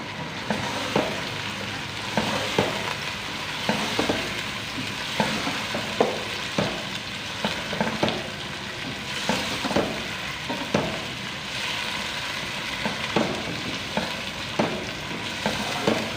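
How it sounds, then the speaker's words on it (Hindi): Chicken fries in a pan for a chicken and peas curry, a constant sizzle punctuated by repeated scraping clatter of a spoon stirring, steady and close. "चिकन को वाइट होने तक भूनेंगे।"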